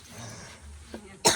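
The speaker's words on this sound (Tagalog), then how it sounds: "Ayan guys, grabe pang ubo." A person with a cough that has lasted about three weeks coughs hoarsely, a short throat-clearing rasp followed by a sharp, loud burst at the end, with no speech.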